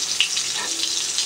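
Fish fries in mustard oil with a bright, steady hissing sizzle, close and brief, with no pauses.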